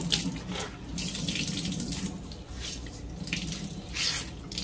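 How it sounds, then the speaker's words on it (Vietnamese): Oyster mushrooms rinsed under a running kitchen tap, a steady splashing stream into the sink with shifting surges as they are handled, close by and without speech. "Nấm mình rửa sạch các bạn, mình rửa sạch mình dắt."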